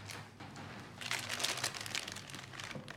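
Plastic bags holding tabletop game miniatures crinkle and rustle close by, with a soft, continuous crackling that grows busier midway through and carries on without speech.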